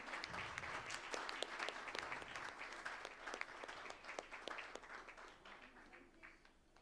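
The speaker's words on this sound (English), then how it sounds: "A big round of applause, please" Audience at a BBB business chapter gathering in Nelamangala, Bangalore, applauds steadily for several seconds, with dense, moderately loud clapping that slowly fades, and little else heard.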